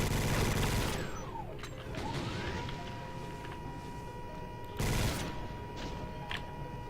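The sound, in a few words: minigun firing in video game Complex TNT Revilution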